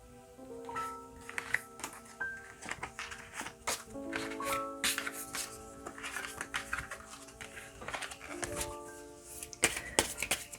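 Tarot cards are shuffled by hand close to the mic in repeated riffling and tapping bursts, with faint musical tones playing softly in the background.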